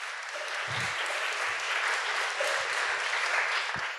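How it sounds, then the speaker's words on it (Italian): An audience at a book presentation for a philosophy book gives sustained, even applause, a broad steady roar of clapping from a crowd with a few low thumps. "rifacciamo subito un grande applauso a Matteo Saudino"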